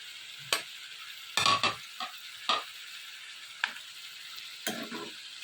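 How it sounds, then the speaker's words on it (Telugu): Eggplant pieces cook with tomatoes in a pan for a vankaya tomato curry, giving a few short scattered bursts of sizzle and stirring with quiet gaps between. "టమాటా ముక్కలు కొంచెం మగ్గిన తర్వాత ఇందులోనే కట్ చేసి పక్కన పెట్టుకున్న వంకాయ ముక్కలు కూడా వేసుకోవాలి"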